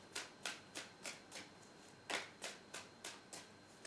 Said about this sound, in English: just shuffle in the cards